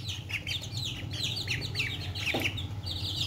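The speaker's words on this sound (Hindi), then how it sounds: "माशाल्लाह चूजे और डक्स आहिस्ता आहिस्ता बाहर आ रही हैं।" Baby chicks and ducks emerging from a coop, a dense chorus of high peeping chirps close by, continuous and overlapping, with a low background hum.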